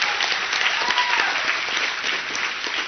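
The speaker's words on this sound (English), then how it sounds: "Let's have another round of applause." Steady, dense applause from an audience at a stage event, an even wash of many hands clapping at close range, continuous throughout without speech.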